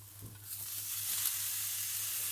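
Meat sizzles as it is added to a pan of garlic and shallot, a steady bright frying hiss that swells slightly and holds close and alone.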